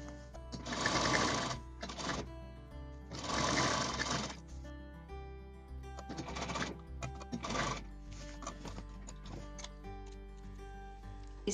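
A sewing machine stitches a folded fabric strip onto a grocery bag in several close bursts of rapid mechanical whirring, separated by short pauses and softer stop-start runs near the end.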